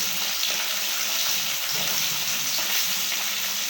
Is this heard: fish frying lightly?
yes